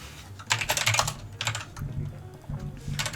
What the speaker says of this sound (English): Everyone gets to hear my really loud ass keyboard.